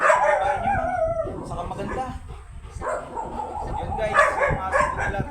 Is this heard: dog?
yes